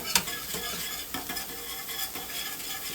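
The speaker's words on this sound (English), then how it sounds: "now we're just gonna take our polenta here and slowly whisk it in." Polenta is whisked into boiling hot milk in a pot, a quick rhythmic scraping and swishing of the whisk over a soft bubbling sizzle, close and steady with no talking.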